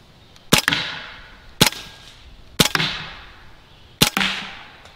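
A Hatsan Blitz full-auto .30 caliber air rifle fires four sharp, loud cracks about a second apart, each followed by a short ringing decay, with no voices.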